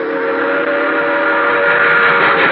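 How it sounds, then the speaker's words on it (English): Express train roaring past at night in a old-time radio drama, a steady loud wash of rumble with sustained whistle tones held throughout, no voices. "An express train roaring by."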